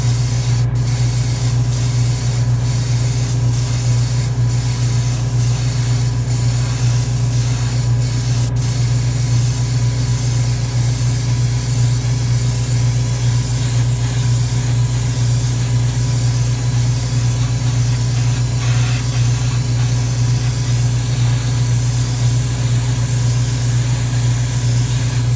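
Spray gun laying a wet final coat of paint through an airbrush line with pressure a little high, a continuous loud airy hiss over a deep compressor hum, unbroken with a few faint clicks.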